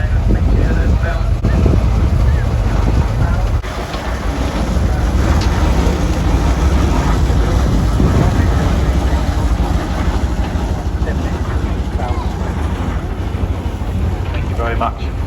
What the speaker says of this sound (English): it's almost a general purpose steam engine as well